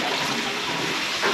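Water rushing steadily from a flushing toilet in a 125-year-old Victorian house under restoration, a close, continuous broadband wash that swells slightly at the end.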